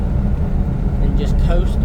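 A Daihatsu Hijet deck van cruises in fifth gear, a steady, close rumble of engine and road noise running continuously under a voice.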